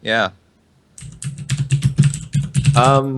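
Rapid clicking of typing on a computer keyboard, picked up close by a microphone during an online show, with a voice speaking just before and just after the burst of keystrokes.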